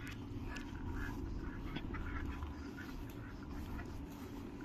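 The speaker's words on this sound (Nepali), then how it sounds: "हाम्रो घरमा हाँस छ" Domestic ducks kept at a house quack repeatedly in short, scattered bursts, fairly distant and partly masked by a constant rough background rumble.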